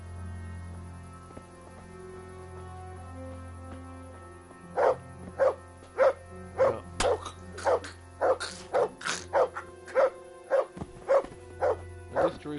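A dog barks repeatedly in the video game Kingdom Come: Deliverance, a fast run of loud, close yaps in the second half after a quieter stretch of in-game ambience and music.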